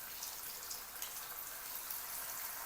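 Chicken pieces frying in hot oil in a kadai, a faint, even hiss of sizzling with small crackling pops, alone and without speech.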